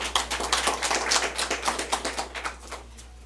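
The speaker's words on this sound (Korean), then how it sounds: "우리 다시 한번 위원장님께 큰 박수 한번 부탁드리겠습니다" An audience applauds with a dense, steady clatter of clapping that gradually thins and fades out toward the end.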